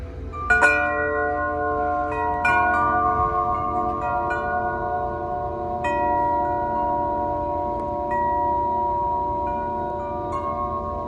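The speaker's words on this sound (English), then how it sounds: "This wind chime right here is probably at least like 5 feet tall." A huge handcrafted wind chime, about five feet tall, made in Austin, Texas, rings with deep, resonant overlapping tones, fresh strikes sounding every couple of seconds over a sustained shimmering wash.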